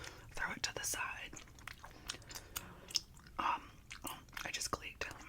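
Close, wet gum chewing and soft clicks come in an irregular rhythm of smacks and pops, with quiet whispered talk over them in an intimate ASMR setting.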